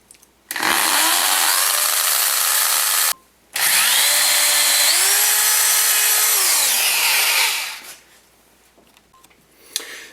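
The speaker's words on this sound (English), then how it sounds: "It's a regular drill plus a hammer drill." A hammer drill bores into a cinder block wall to mount a gas line. It makes two long, loud runs of rattling, whining drilling, split by a brief pause, and the pitch rises and falls as it works.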